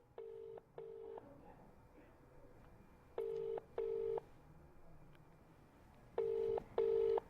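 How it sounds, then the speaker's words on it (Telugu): Ringback tone of an outgoing phone call that goes unanswered: three pairs of short, even tone bursts separated by silent gaps, faint and steady through the line. "రింగ్ అవుతుంది."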